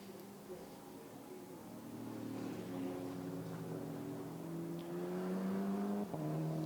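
Racing cars, a Mercedes and a Porsche, drive down toward a hairpin, their engines droning and rising in pitch as they approach, then dipping sharply as one lifts off near the end.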